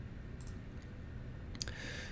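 A single soft mouse click on an OK button in a Cisco ACI configuration interface, close and brief, over a faint steady hum with no talking.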